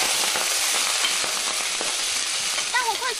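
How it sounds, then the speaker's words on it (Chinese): Dried tofu and shredded pork stir-fry in a stainless steel pan with a dense, steady sizzle of hot oil that runs unbroken and close, with faint scraping as the food is stirred. "炒香喷喷的豆干炒肉丝"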